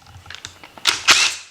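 Quick clicking and ratcheting from a hand tool as 10mm bolts are loosened from a CVT transmission oil pump cover, a close burst of sharp metallic clicks.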